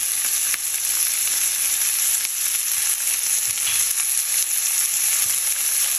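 Onions sautéing in a pan for a pork kaldereta, giving a constant, even frying hiss that stays close and steady throughout with a couple of faint utensil ticks and no talking.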